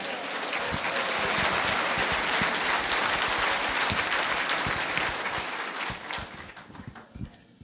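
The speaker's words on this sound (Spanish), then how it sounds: "fuerte aplausos a Cristo" Strong, sustained applause from a church congregation clapping for Christ during a sermon, dense and steady before thinning out near the end.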